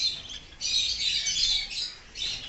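Java sparrows in a breeding cage setup of eight pairs give bursts of high squawky calls and chirps, moderately close, with brief quieter gaps between the bursts.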